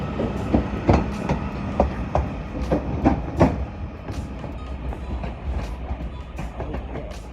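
British Rail Class 331 electric train arriving at Manchester Piccadilly, with rhythmic wheel clatter over rail joints in repeated close bursts and a steady low rumble, no talk over it.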